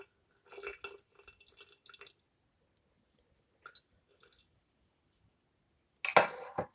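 Water is poured into a rye sourdough starter in a jar, giving soft intermittent trickles and drips with small glassy clinks, quiet and close, ending in a louder pouring splash.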